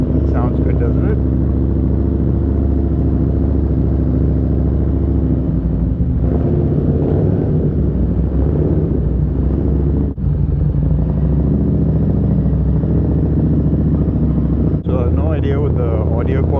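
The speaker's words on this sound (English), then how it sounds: "This exhaust, I've got a Vance & Hines exhaust on this" A Harley-Davidson Street Rod motorcycle with a Vance & Hines exhaust rumbles loudly and steadily in Dubai's Business Bay, a deep throaty exhaust note that swells with throttle changes while someone talks over it.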